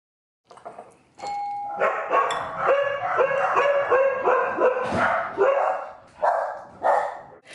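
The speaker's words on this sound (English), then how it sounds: "the dogs are barking" Several dogs bark in a busy, overlapping burst of yips and woofs close by, mixed with a ringing doorbell chime partway through, with pauses near the end.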